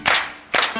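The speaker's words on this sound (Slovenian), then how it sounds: "Če si srečen z rokama, zaploskaj si." Audience clapping along to the children's song "If you're happy and you know it" at the opening ceremony of the Ravne Days festival, two dense bursts of many hands in a short moment, loud and close.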